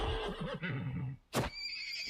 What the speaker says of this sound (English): You are such a dumb horse.